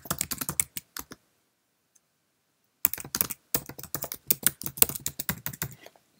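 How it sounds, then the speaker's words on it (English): Rapid clicking keystrokes on a Mac keyboard as an announcement is typed, close and crisp, in two bursts separated by a pause of nearly two seconds. "Social media, type your announcement."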